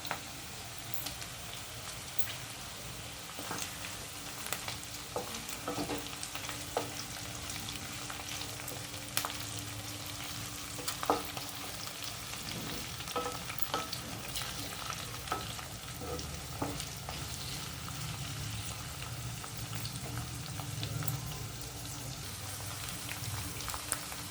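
Chopped capsicum frying in a pan for chilli chicken, a steady broadband sizzle with scattered crackles and occasional stirring scrapes, moderately loud and continuous throughout.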